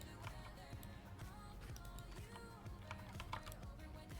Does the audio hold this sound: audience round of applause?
no